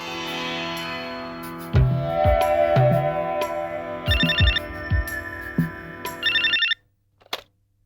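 A telephone rings in a Tamil television comedy show: two short bursts of electronic ringing come through loudly amid musical stings and thumping effects, then cut off abruptly into near silence.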